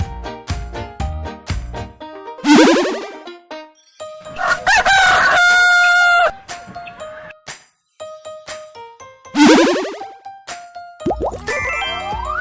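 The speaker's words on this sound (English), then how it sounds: "Rooster." A rooster crows loudly twice in drawn-out calls, set amid bouncy cartoon music with chimes and boings.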